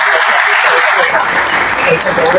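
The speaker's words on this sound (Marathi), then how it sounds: "सर्वांनी त्यांच्यासाठी टाळ्या वाजवा" Applause from the audience at a college quiz competition held for Dr. Panjabrao Deshmukh's birth centenary celebration, greeting the winners; dense, steady clapping fills the short stretch with a voice over it at the start.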